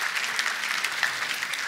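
An audience applauds at a talk event, a dense, steady patter of many hands clapping close and loud throughout.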